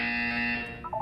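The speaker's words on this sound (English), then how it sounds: "When you hear the buzzer, look up at the ceiling." A buzzer from the video game Portal 2 sounds as a short, harsh electronic tone with a rich, steady drone, cutting off after about a second.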